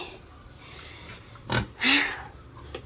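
A pig gives a couple of short, loud grunts close by over a steady background hum.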